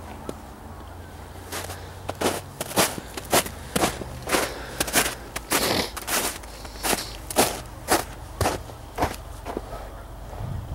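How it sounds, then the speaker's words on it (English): Footsteps walking outdoors, a steady series of crisp, crunchy steps fairly close by, evenly paced and clearly audible over a low background rumble. "I hear footsteps."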